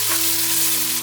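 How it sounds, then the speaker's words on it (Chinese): Minced ginger dropped into hot oil left in a wok after frying eggplant gives a dense, loud, continuous sizzle heard up close. "我们来爆香姜末。"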